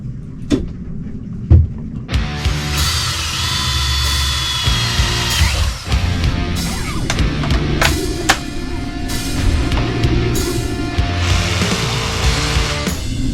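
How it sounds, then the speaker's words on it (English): A jigsaw cutting through a sheet of StarBoard marine plastic, loud and close with a steady buzzing whine that starts after a few brief knocks and runs on with small changes in pitch. "let's hope that jigsawing through starboard doesn't make as much of a mess as circular saw"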